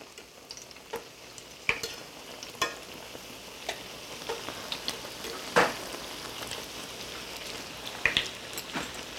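Beignet dough frying in hot oil, with a steady soft sizzle and scattered small pops and crackles as the dough puffs and bubbles, fairly faint and close with no talking.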